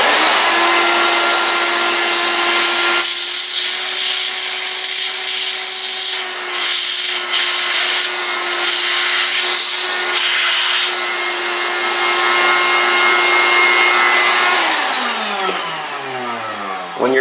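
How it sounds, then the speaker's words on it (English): A shop vac sucks metal chips and residue out of a hole during an X axis datum install on a PM727MXL mill, a loud steady whine with a sustained hum, briefly dipping and changing pitch as the nozzle moves, then winding down at the end. "I'm going to hit it with the shop vac again, see if I make sure I can clean out any of that residue, the chips that might be in the hole there."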